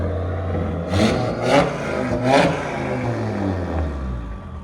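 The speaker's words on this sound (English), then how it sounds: "give it gas. You can hear the turbo" A 2018 Audi RS3 with a 2.5-litre turbocharged five-cylinder, downpipes and a switchable cat-back exhaust, revs three times in quick bursts over a steady idle, each blip rising and falling, close to the microphone.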